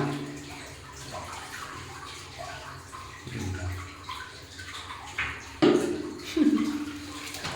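Water runs into a bathtub being filled for a hot bath, a steady gushing flow with a few louder splashes near the end, while voices murmur faintly in the background.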